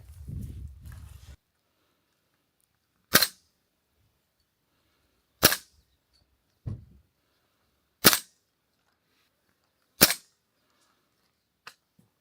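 Short noise opens, then five sharp gunshots crack out at irregular intervals a couple of seconds apart at a target 15 metres away, with a softer thud between and a faint pop at the end.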